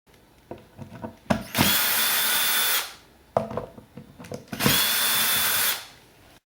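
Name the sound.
power drill removing guitar neck screws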